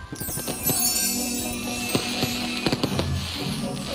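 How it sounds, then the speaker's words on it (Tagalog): Fireworks crackle and pop in irregular bursts over steady background music and crowd noise at a City Hall Christmas display, with a few sharper bangs near the end. "Ang grand reveal sa City Hall, sinabayan pa ng fireworks display."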